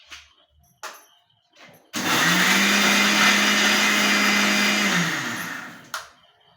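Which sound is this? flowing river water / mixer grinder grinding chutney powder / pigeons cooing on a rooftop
mixer grinder grinding chutney powder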